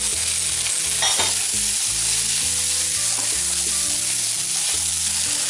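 Sprouted moong dal stir-fries on high heat, a loud, steady sizzle running the whole time with repeated scraping stirs and clacks, close up and with no voices.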